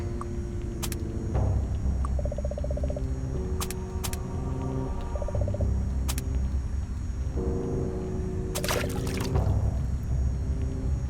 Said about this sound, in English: Faucet filling the sink.